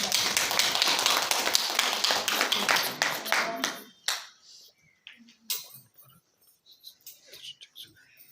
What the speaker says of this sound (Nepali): हामी उहाँलाई ताली बजाएर स्वागत गर्नुपर्छ